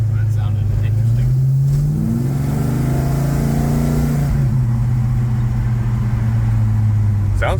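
A Chevrolet El Camino engine revving hard under acceleration, loud and close, its pitch climbing, dipping and settling into a steady drone.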